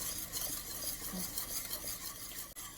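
A thickening semolina mixture with butter and orange peel is stirred in a pot, giving a steady, close scraping and swishing that runs continuously without talk.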